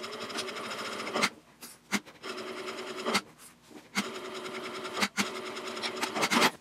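Sewing machine basting a flap onto a minimalist ID wallet, several short runs of close stitching broken by brief pauses and clicks.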